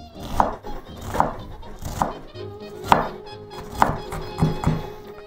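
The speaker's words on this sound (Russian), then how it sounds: "Я сейчас прямо в ней начну жарить лук" Knife chopping onions on a wooden board while cooking, heard as about seven close, firm thunks in an uneven rhythm, with no talking.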